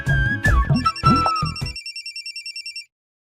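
A telephone rings late at night with a repeating electronic ringtone trill that continues steadily after a few spoken words from people close by at the start.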